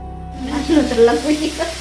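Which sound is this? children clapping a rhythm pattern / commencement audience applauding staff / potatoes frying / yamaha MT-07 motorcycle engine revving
potatoes frying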